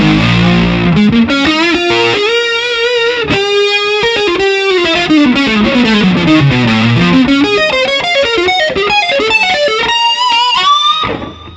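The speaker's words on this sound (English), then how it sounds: "the thing with his heavy overdrive sound is it's quite abrasive" Heavily distorted electric guitar plays a continuous melodic line with sliding bends, loud and abrasive with a fizzy edge.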